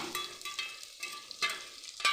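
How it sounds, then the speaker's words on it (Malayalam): Garlic, ginger and chopped shallots fry in hot oil in a pan for a prawn and drumstick curry, giving a close, steady sizzle broken by short scraping stir strokes. No voices. "വെളുത്തുള്ളി ഏകദേശം ഒന്ന് മൂത്തിട്ടുണ്ട് ഇനി അതിലേക്ക് ഇഞ്ചിയും ദേ ചുമന്നുള്ളി"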